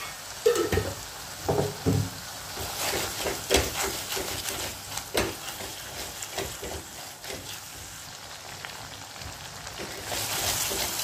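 Roasted tomatoes sizzle in a spoonful of homemade ghee, a spoon stirring and scraping the pan with soft periodic knocks over a continuous crackling fry. The sound is close but fairly quiet, with no voices.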